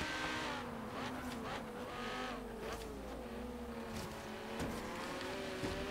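An Audi races in the Forza Horizon 3 video game, its engine droning and shifting pitch steadily with tire noise and other cars nearby, a continuous moderately loud motor sound with no talk.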